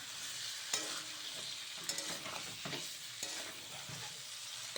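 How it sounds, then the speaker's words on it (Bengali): Beef with potatoes stir-frying in a pan for a beef curry, a steady close sizzle broken by repeated scraping strokes of a spatula against the metal, with no voices. "ভালো করে মাংসটা কষানো হয়ে গেছে"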